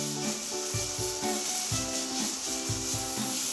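Finely chopped onions and ginger frying in a pan, a steady close sizzle with soft rubbing and stirring scrapes recurring throughout.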